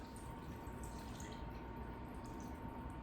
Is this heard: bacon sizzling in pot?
no